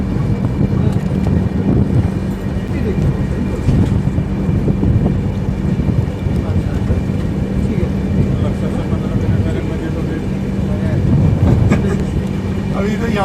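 Passenger train travelling from Kolkata toward Haridwar, nearing Haridwar past Laksar: a steady, loud low rumble of running wheels and carriage noise with wind buffeting throughout, and faint voices underneath.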